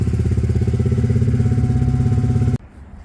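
A Honda CBR 125 motorcycle engine runs steady and loud on a test ride, a dense buzzing drone that cuts off sharply near the end, leaving only faint background noise.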